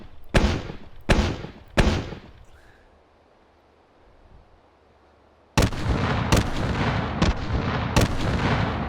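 A rolling block rifle fires long-range high-angle shots in the H3VR virtual reality game: three sharp booming reports in quick succession, a quiet pause, then a denser barrage of loud blasts and rumbling impacts.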